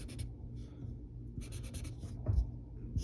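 A pencil scratching as it sketches triangular shapes on paper, the soft strokes coming in short bursts with pauses between, fairly close and quiet.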